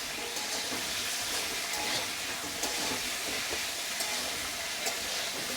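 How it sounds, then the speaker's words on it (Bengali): Cauliflower florets fry in a pan of oil at home, making a dense, constant hissing sizzle with small crackles throughout, fairly loud and close, with no speech. "এবার ফুলকপিটাকে আমি ভালো করে একটু ভেজে নেব।"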